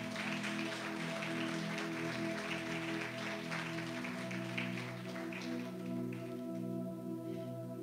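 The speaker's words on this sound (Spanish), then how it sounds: "Un aplauso al Señor." A church congregation applauds during a Catholic worship service, a steady wash of clapping over sustained music that holds level for the whole stretch without a clear start or finish.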